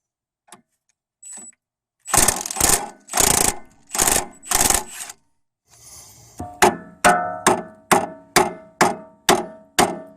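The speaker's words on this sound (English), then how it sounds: "try to hit some hammer blows on the bolt and try to jar it out" Sharp metallic hammer strikes on a steel suspension bolt of a Honda Accord, a few spaced blows followed by a steady run of about nine rhythmic, loud clanging hits on metal.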